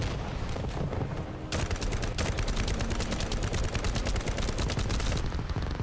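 Rapid automatic gunfire from The First Descendant video game, a dense run of sharp repeated shots lasting several seconds after a brief quieter lead-in, loud and close with no talking.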